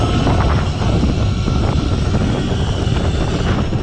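Sur-Ron electric dirt bike passing close by outdoors, a loud rushing whine and wind roar sweeping past the microphone with no talk.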